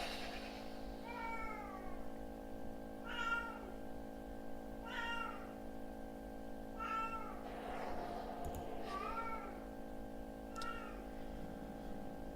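A house cat meows repeatedly in short, separate calls, about five or six of them spaced a couple of seconds apart, moderately close over a steady electronic hum in a quiet room.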